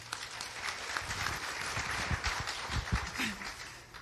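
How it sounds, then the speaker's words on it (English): A room full of people applauds steadily at a political candidate forum, the clapping moderately loud and continuous throughout. "Hopefully we're clapping because we're almost done."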